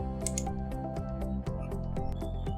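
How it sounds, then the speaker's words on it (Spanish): Computer mouse and keyboard clicks in Excel, a series of crisp, close taps in irregular rhythm over a steady electronic hum. "Posteriormente hacemos clic en ir"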